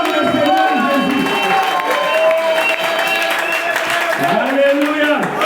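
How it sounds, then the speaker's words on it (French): A church congregation cheers and acclaims loudly, a dense mix of voices with clapping, shouting and singing tones that carries on without a break from start to finish. "Acclame le Seigneur Jésus."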